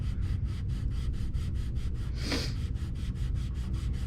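Hand sanding of a guitar neck along the wood grain, a steady rhythmic back-and-forth rasp of paper on wood, close and even, with one brief louder scrape partway through.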